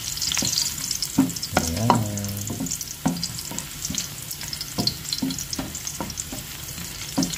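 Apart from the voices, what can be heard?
sautéing in a frying pan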